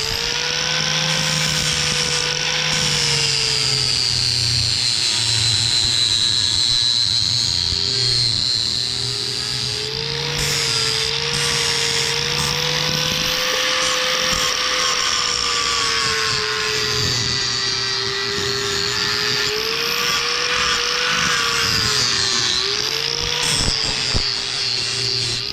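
Power grinder works a railroad spike knife blade, a loud continuous high whine that rises and falls in pitch as pressure on the steel changes, with brief scraping bursts near the end and no talk.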